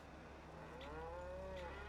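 Cows mooing in the Farming Simulator 25 video game on the Ladyhill Ireland farm, a long drawn-out moo rising and falling over a steady low background hum, heard alone without talk.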